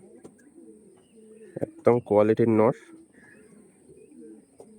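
Pigeons, blue-check and triple-patti birds kept for sale, give a short burst of throaty cooing midway, loud and close, while someone speaks in the background before and after.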